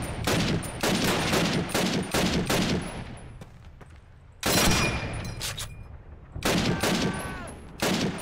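Bursts of rapid gunfire crackle in loud clusters, separated by short pauses and scattered single shots: combat gunfire in Call of Duty 2 on PC.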